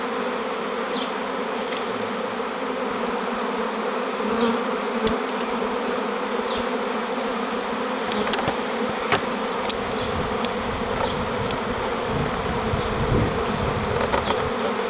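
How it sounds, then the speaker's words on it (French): A large honeybee swarm being shaken into a catch bag at a château drones with a dense, steady buzz close by, the hum holding level throughout with no voices. "Donc j'ai fait tomber un maximum d'abeilles dans le pochon."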